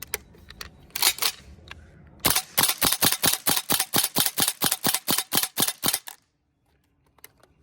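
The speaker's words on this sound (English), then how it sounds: "we'll test out how many mags we can go through on one gas fill" Tokyo Marui Saiga 12K gas airsoft shotgun firing, a few scattered shots, then a rapid string of about eighteen loud, evenly spaced sharp pops that stops abruptly, followed by near silence.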